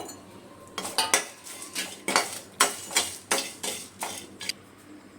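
Whole cinnamon, cloves, cardamom, mace and nutmeg dry-roasting in a pan for bisi bele bath powder, stirred with a metal spoon: a close, steady series of scraping, clinking strokes about every half second, with no voices.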